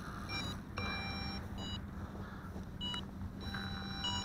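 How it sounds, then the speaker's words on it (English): An MJX Bugs 6 brushless sport drone sounds its low-battery warning, thin repeated electronic beeps heard faintly in the near distance over a low background hum. "Hear the beeping? That's low battery warning"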